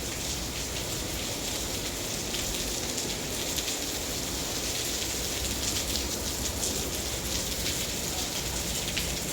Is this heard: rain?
yes